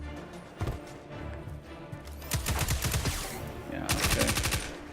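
An SMG in Destiny 2 fires bursts of rapid automatic gunfire, with a single loud shot first, then a long rattling burst and another burst near the end, all close and sharp.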